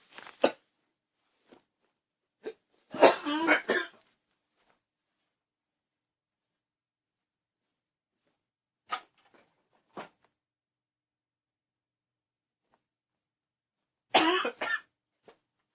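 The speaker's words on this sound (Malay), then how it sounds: "Tadi tengah rakam tadi ada batuk" Several separate coughs and throat clearings in a quiet room, loud bursts close to the microphone with long silences between them and no talk.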